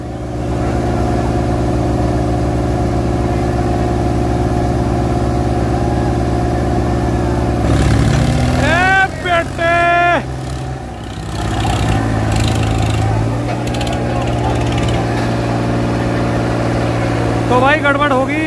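Swaraj 742 XT tractor engines idling loud and close at the start of a tractor pulling race, then revving hard in several sharp surges, with people talking over the rumble.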